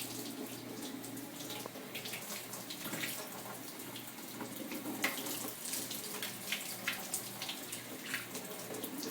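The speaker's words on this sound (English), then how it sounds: "just lightly want to rinse the rice" Tap water runs steadily into a sink as rice is lightly rinsed for rice pudding, a constant close splashing hiss with small sloshing variations and no speech.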